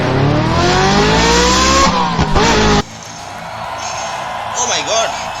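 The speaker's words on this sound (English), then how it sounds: "So the engines are revolving, cars are waiting side by side." Race car engines rev loudly with rising, whining pitch for a Hot Wheels diecast muscle car race, followed by an abrupt cut to quieter, wavering engine and tire squeal sounds.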